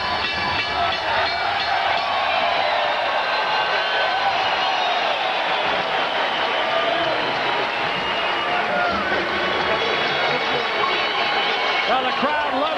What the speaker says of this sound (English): Well, the crowd loving what it has seen here